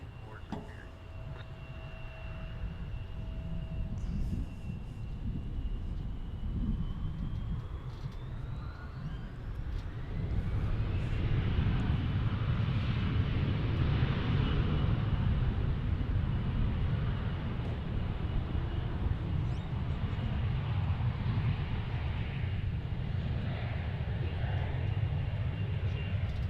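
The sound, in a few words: Envoy airliner taking off from DFW runway 18 left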